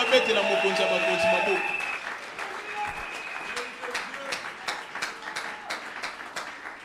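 A church congregation at a Sunday service cheers and acclaims the Lord, with a loud mix of voices and scattered clapping that starts full and thins into sharper, intermittent claps and calls.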